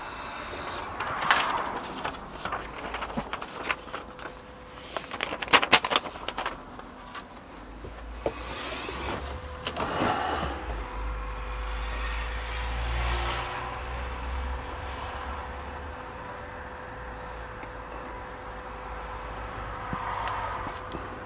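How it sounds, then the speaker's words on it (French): A coach's engine cranks and catches partway through, then settles into a steady low idle rumble that continues to the end, with some light clicks and handling noises before it starts. "ensuite je vais lancer le moteur"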